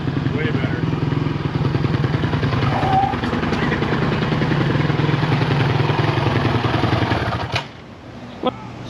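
A 450X dirt bike engine runs steadily close by with a throaty, pulsing idle for most of the clip, then cuts away near the end. No speech is heard.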